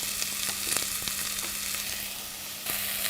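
Onions frying in hot oil in a pan, a steady bright sizzle and crackle with occasional pops, close and continuous throughout.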